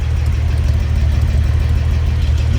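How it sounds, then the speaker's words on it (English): A 1941 Chevrolet AK Series pickup idles, heard close at the tailpipe tips as a steady, smooth low-pitched burble with an even pulsing rhythm and no talk. "Nice subtle burble out of those tips."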